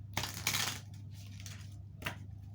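Tarot cards being shuffled by hand, giving quiet papery riffles and soft slaps in a few short bursts against a faint steady hum, with no speech.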